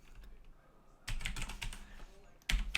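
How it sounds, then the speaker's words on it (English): Fingers tap out a promo code on a computer keyboard, bursts of quick, close clicking keystrokes with short pauses between groups, no talking. "I'll go ahead and type it in anyways"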